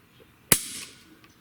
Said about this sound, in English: let's test the trigger on our HPSS